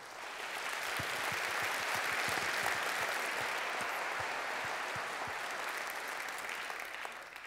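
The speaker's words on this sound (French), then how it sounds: "Je pense qu'on peut les applaudir." An audience at a conference breaks into applause, a dense, steady wash of clapping from many hands that holds throughout and tapers slightly at the end.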